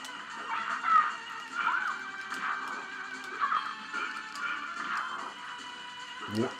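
Donkey bray from the SNES game TMNT Tournament Fighters, a few loud, wheezy honking bursts repeating over roughly six seconds, with a thud near the end.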